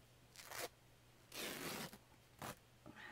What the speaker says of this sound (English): I'm just ripping it into strips here